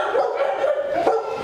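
Dog at a pet boarding farm barks and yips in quick, excited bursts, close and fairly loud against a steady background.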